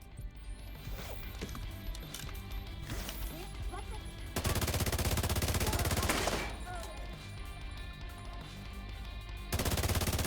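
Automatic rifle fire crackles in a busy The Division 2 firefight, with dense sustained bursts and rapid shots over background game noise, plus long loud volleys midway and at the end.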